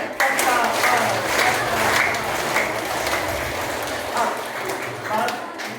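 A school audience at a girls' inter college in Khatauli claps steadily and loudly for several seconds, a dense continuous patter of many hands with slight swells in intensity.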